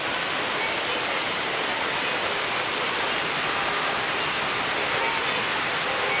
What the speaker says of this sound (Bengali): হঠাৎ করে এদিকে বৃষ্টি চলে আসলো